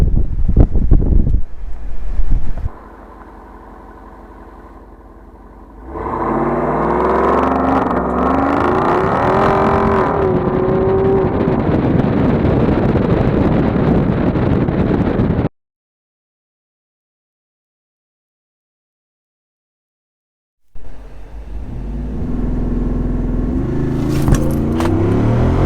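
A Jeep Wrangler 392 engine revs and roars hard off-road in Off-Road Plus mode, a loud sustained launch with wind buffeting the microphone, broken by a sudden cutout before the engine noise resumes.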